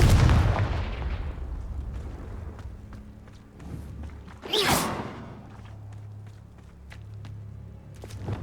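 A Confringo fire spell from Hogwarts Legacy erupts in a loud whooshing blast near the middle, set against a low rumbling game soundtrack and a heavy thump at the start, with no talk.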